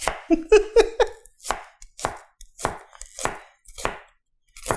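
A Titan Forge chef's knife chops on a board in about eight sharp, evenly spaced strokes, close and clear, the first few quicker and the rest slower and steady.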